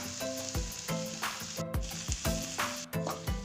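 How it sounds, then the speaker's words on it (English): Mixed vegetables including cauliflower sizzle in a hot pan with rhythmic scraping and stirring strokes, a steady crackle of frying throughout. "I've been frying these vegetables for about 2 minutes now."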